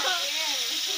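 Bitter gourd (ampalaya) sautéing in a pan gives off a steady close sizzle and hiss, with a voice talking over it.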